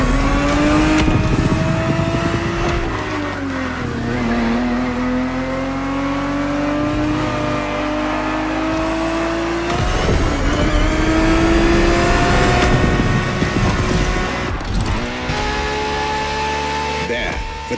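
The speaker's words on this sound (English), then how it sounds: "365 GTB4 is the perfect vehicle for you to experience Ferrari racing as it felt back in the 70s" A 1970s Ferrari 365 GTB4 racing car on a track: the engine revs loud and close with a steady, rising and falling tonal drone as it accelerates through the gears, a brief dip near the middle, and sustained pull throughout.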